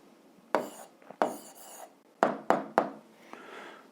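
Pen strokes scratching across paper while a 7th-grade physics answer is written down: several short, close raspy bursts separated by brief pauses, no voice.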